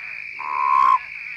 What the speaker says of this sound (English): you'll soon be seeing a lot more of these Colorado river toads here in the desert